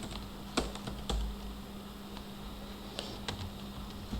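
Keys tapped on a computer keyboard while text is entered in a JavaScript editor, a handful of distinct clicks scattered over a low steady hum, close and fairly quiet, with no talk.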